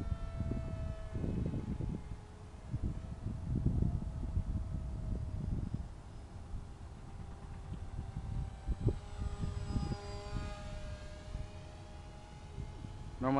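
An electric Dynam Hawksky model airplane flies on a cold day, its thin motor whine rising and shifting pitch as it passes, mixed with wind buffeting and someone talking over it.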